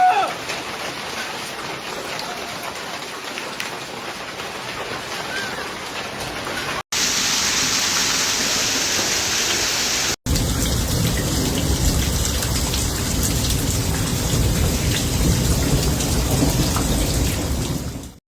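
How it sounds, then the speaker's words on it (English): Hail and heavy rain pound a parking lot in Tempe, Arizona, during a storm with thunder. The roar stays loud and steady throughout, broken by two brief cuts, with no other clear sounds over it. "Hail pummeled a parking lot in Tempe, Arizona, on Tuesday, November 18th"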